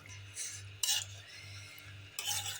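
A spoon stirs chicken curry in a pot with two short scraping strokes. The strokes are quiet, set against a faint low hum, with no talking.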